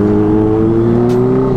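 A blue Kawasaki ZX25R motorcycle engine revs hard and close, a loud, sustained high whine that holds steady before easing slightly.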